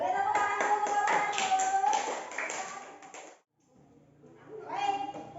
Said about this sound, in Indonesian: Boleh tepuk tangan dulu untuk kelompok